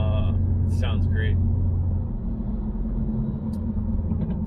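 Deep, steady engine rumble of a Mercedes-AMG GT R alongside in traffic, a low throbbing hum heard close by amid road noise, with a few faint higher sounds early on.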